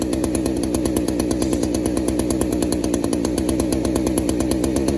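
A small engine idles near the mic at roughly 500 to 600 RPM, a loud, steady, buzzing chug with an even rapid pulse throughout and no voices.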